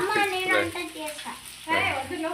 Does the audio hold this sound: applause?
no